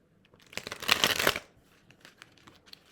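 Oracle cards being shuffled by hand, a quick papery riffle of flicking cards that builds for about a second, then trails off into faint scattered taps.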